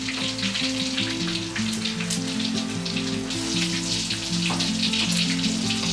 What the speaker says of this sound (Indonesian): Sebagian ikan kami goreng juga